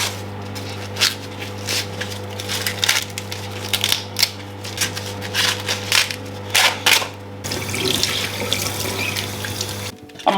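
Leaves are washed under a running kitchen tap, giving a steady stream of water with irregular splashes and rustling as they are handled, close and fairly loud, ending in a brief pause.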